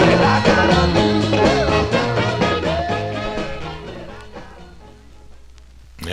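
Tail end of a 1964 Chicago soul record, a full band with vocals playing loudly, then fading down toward the end before a brief sound at the close.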